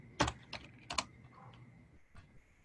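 A few distinct computer-keyboard keystrokes, several sharp clicks near the start then sparser taps, close and clear over quiet room tone while numbers are entered during a statistics webinar, with no talk.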